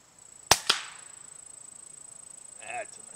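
Two quick sharp pellet gun shots crack close together near the start, followed by a faint high whine and a brief soft chirp near the end.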